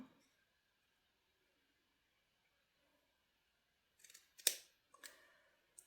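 Scissors snip through paper while making a junk journal craft, a few short crisp cuts clustered near the end after a long near-silent stretch.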